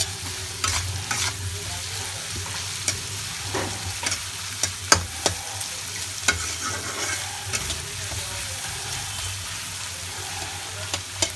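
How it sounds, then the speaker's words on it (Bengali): Onions sizzle steadily in a pan while a utensil scrapes and clicks through them in repeated stirring strokes, close up, gently stirred until lightly browned, before bethua greens are added. "এইভাবে নাড়তে নাড়তে আমরা এইভাবে আলতো আলতো করে নাড়তে থাকবো"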